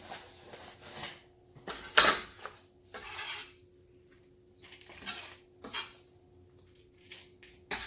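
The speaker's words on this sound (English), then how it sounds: "I'm going to put this in a bowl" Eggplant being scraped and tipped into a bowl in a kitchen, heard as a series of close clinks, scrapes and knocks of utensils against dishes and a board, irregular and moderately loud, no talking.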